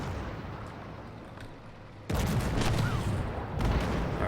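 Tank gunfire in Armored Warfare: a dull rumbling battle ambience, then a loud cannon blast at about two seconds that leaves a sustained roar, with another heavy shot near the end.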